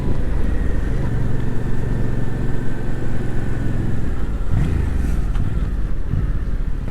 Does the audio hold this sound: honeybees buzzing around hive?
no